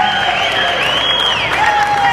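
Audience applause and crowd noise at the National Library's 180th anniversary celebration, honoring a music director and singers, with steady clapping under sustained musical tones and cheering.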